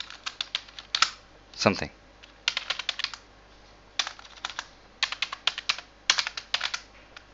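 Bursts of fast computer-keyboard typing while Java code is entered, close and crisp, in several clustered runs separated by short pauses, with a brief spoken word in the middle.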